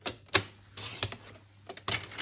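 Paper being cut into pieces for a handmade card project, a few sharp clicks and cuts spaced over about two seconds, fairly quiet with a low steady hum behind, no voices.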